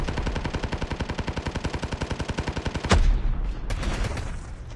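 Rapid automatic gunfire from a video game, a steady burst of evenly spaced shots for about three seconds that ends in a loud blast, followed by a fainter rumbling tail.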